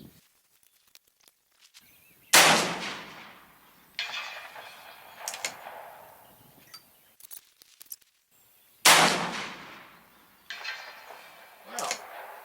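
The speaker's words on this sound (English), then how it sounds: "Now let's try a 5-shot group on that IPSC guy." Heavy 1885 Browning rifle in 40-65 firing at a distant steel target 300 yards out: two loud, sharp reports, each followed by a long rolling echo, with a few fainter cracks and clicks between them.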